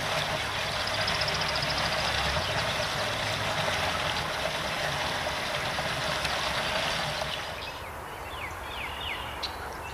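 Outdoor fountain with steady running water, a constant broadband rush and trickle that continues for most of the time, with a faint engine hum underneath before the sound thins slightly near the end.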